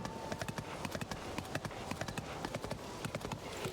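In a video game set near Rito Village, a horse's hooves clip-clop in a quick, even rhythm of crisp repeated beats, steady and fairly close throughout.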